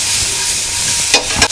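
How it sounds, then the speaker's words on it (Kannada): Masala of onion, ginger, garlic and green chillies sizzles steadily in a pan close up, a continuous hissing fry with a couple of brief stirring scrapes near the end. "ಈಗ ಒಂದು ಸ್ವಲ್ಪ ಮಸಾಲ ಫ್ರೈ ಮಾಡ್ಕೊಳ್ತೀವಿ"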